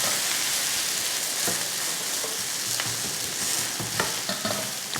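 An adai dosa with spinach and onion sizzles in oil on a pan. The frying hiss is soft and continuous, broken by occasional faint clicks and pops.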